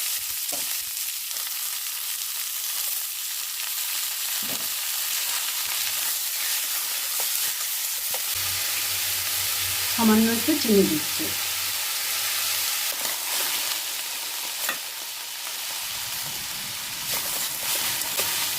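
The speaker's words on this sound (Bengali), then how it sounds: "রসুনগুলো লাল লাল ভাজা হয়ে গেছে, দিয়ে দেবো কাঁচা লঙ্কা, দিয়ে দেবো পুঁই শাক সেদ্ধ করা।" Boiled Malabar spinach leaves are tipped into hot oil with red-fried garlic and green chillies in a village kitchen, producing a steady, loud sizzle throughout, and someone speaks briefly over it.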